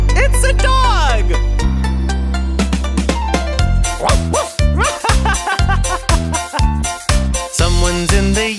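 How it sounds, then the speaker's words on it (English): Dog barks and yips ring out repeatedly in a cheerful nursery-rhyme song, loud and close, mixed with bouncy music and singing voices. "It's a dog!"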